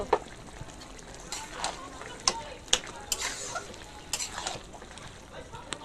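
Leafy greens are stirred in a frying pan for a Bengali dish made with a fish head, bringing scattered scraping clinks of a spatula over a soft, faint sizzle, while a voice speaks quietly underneath.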